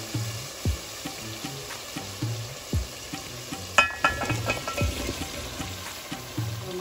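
Masala spices sizzle steadily in a pan for vegetable biryani, with occasional stirring scrapes and clinks and soft background music underneath.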